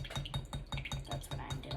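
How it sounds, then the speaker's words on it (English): Chunks of lip balm are stirred in hot liquid, giving a quick, regular series of light scraping clinks against the container, about five strokes per second, close and distinct. "you wanna like break up the chunks, because the smaller the chunks, the easier it melts in the hot liquid"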